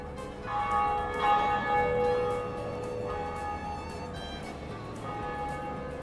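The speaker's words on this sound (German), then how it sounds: "Erste Glocke geläutet." Church bells toll in a German-language video game, layered ringing tones with a sustained metallic hum over steady game ambience, fairly loud and continuous throughout.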